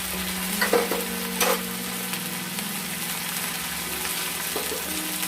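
Banana flower curry sautés in a pan with turmeric, Kashmiri chili, cumin and coriander powders, giving a constant close sizzle with a low steady hum, broken by a few scraping spatula strokes and clinks.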